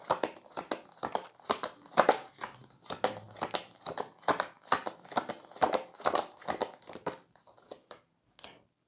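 Tarot cards drawn one after another from a deck in a Hindi pick-a-card reading: a close, steady run of papery snaps and slides, about two per second, with quiet gaps between them and the pace thinning out toward the end.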